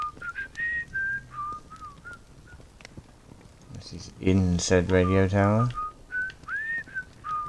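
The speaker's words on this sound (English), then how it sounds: "The whistling doesn't really come from anywhere, that's the problem." Whistling in the video game Atomfall, a repeated tuneful melody of short notes heard in the surroundings, with someone talking over it in the middle.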